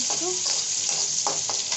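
Onion, potato and green chilli frying in a pan for noodles give a steady broadband sizzle with brief stirring scrapes, close and continuous.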